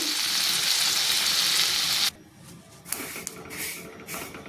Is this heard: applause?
no